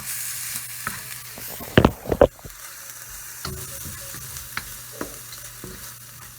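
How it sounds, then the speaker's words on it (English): Chicken for General Tso chicken sautéing in a pan, a steady frying hiss broken by sharp scraping stirs and clacks of a spoon against the pan, loud and close with no talk. "We'll just saute everything around real quick."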